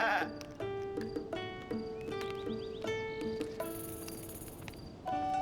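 Goats bleat repeatedly in Tears of the Kingdom, several overlapping calls in quick succession over a faint insect-like chirping background, with no talking.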